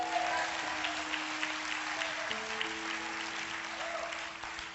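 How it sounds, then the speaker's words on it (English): Loud, sustained applause from a large audience at a motivational church-style sermon, continuous clapping with a faint hum underneath. "Clap your hands."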